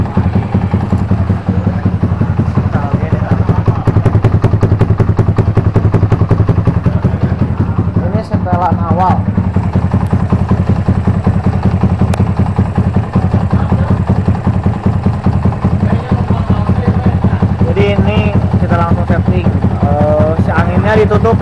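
A motorcycle with a PE28 carburetor idles with raised revs during tuning, a loud, close, steady pulsing engine throb with a choppy, stuttering character, while someone talks over it.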